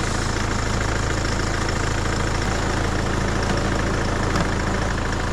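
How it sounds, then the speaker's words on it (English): A Peugeot car engine idling after a service in an underground car park, a loud, steady, even running note with a low rumble that holds unchanged throughout and no voices. "I'm going to start her up and let her idle for a bit."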